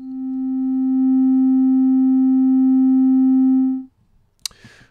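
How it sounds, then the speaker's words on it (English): A software synthesizer oscillator in VCV Rack holds a pure, steady sine tone for about four seconds, swelling in at the start and then cutting off, followed by a couple of faint clicks. "So we can hear that there's a sine wave coming out."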